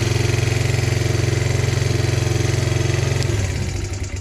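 A motorcycle engine idles steadily and loudly right after a Chinese carburetor was installed, its even pulsing putter holding for about three seconds before the rhythm roughens and wavers near the end.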